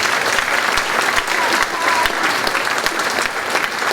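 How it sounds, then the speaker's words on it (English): An audience claps at a school spring concert, a continuous, full burst of applause from a crowd in a hall, steady throughout with no voices standing out. "A round of applause, please, for all those folks"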